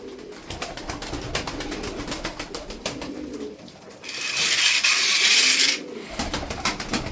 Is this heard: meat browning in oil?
no